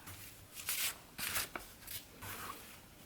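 Pins are pulled from fabric while a quiet book page is prepared, giving soft, close scratchy rustles in a few short bursts separated by near silence.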